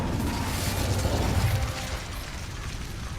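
The Incendio fire spell in Hogwarts Legacy is cast with a loud rushing, crackling burst that roars for over a second and then fades into lower game rumble.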